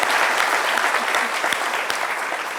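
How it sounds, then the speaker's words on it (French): A studio audience applauds with dense, continuous clapping that stays loud and even throughout, with no speech over it. "Je vais demander au public d'applaudir."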